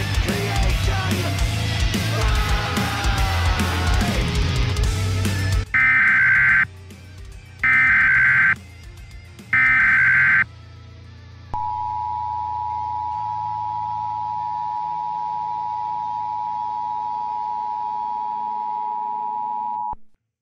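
Three loud, evenly spaced electronic burst tones of an Emergency Alert System signal, followed by a long, steady, piercing alarm tone that holds until the end.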